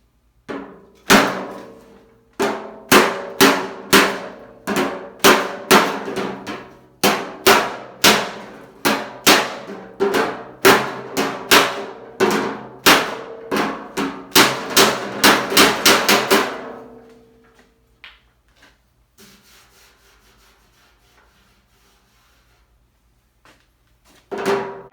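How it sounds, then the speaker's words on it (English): Metal hammering shapes a 1950 Chevy rear fender, a long series of sharp ringing blows in quick irregular bursts, loud and close, ending in near silence with a few faint taps. "I'm actually going to use this as a hammer on the inside."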